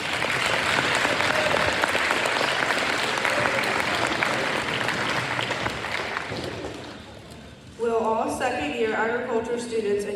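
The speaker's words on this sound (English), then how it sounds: "Could we please have a round of applause for our 3rd-year members?" A banquet audience at an FFA chapter event claps for third-year members, loud and sustained for about seven seconds before fading out as a speaker resumes talking.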